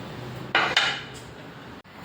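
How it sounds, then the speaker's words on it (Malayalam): Ginger and garlic cloves crushed in a kitchen for a fish curry, heard as a few sharp, close knocks and clatters of hard utensils, spaced irregularly against a quiet background. "ഒരു 10 അല്ലി വെളുത്തുള്ളി, ഇത് ചതച്ചെടുത്ത് വരാം നമുക്ക്"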